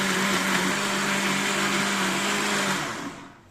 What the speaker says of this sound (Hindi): और उसको ब्लेंडर को चला देती हूँ।